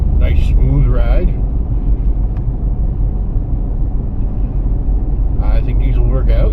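A 1998 Jeep ZJ fitted with wheel adapters cruises around town, its steady low engine and road rumble droning throughout, with someone talking over it at the start and again near the end.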